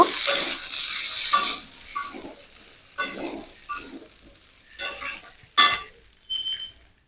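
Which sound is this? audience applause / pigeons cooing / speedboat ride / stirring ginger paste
stirring ginger paste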